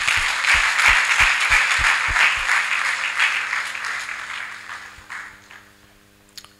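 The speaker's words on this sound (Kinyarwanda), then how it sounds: "Muramfasha, tubaha amashyi," A church congregation breaks into a burst of rhythmic clapping that starts loud and even, then thins into scattered claps that fade out near the end.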